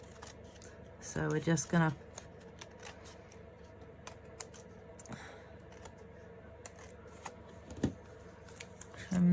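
Scissors snip a few quick cuts through craft pieces for a tropical-themed project, close and quiet, followed by soft handling noises while a person talks.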